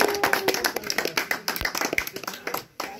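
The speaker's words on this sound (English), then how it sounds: "Give him a round of applause." A tour group at the Mystery Spot in Santa Cruz, California, claps briefly in a scattered, close round of applause that thins out toward the end.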